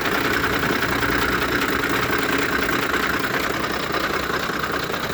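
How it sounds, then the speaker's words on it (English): A Ford F-150 with a faulty bank 1 cam sensor idles roughly, a loud, continuous, close engine drone with a shaky, uneven pulse throughout. "It's running rough."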